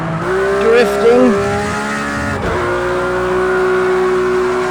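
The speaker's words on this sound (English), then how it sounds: "I can feel the rear tires fighting for grip there." Porsche GT3 RS tires squealing in a high-speed drift in a racing video game, rising and falling squeals over a steady loud engine drone, with brief engine pitch swings early on.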